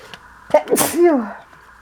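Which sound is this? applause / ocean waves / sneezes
sneezes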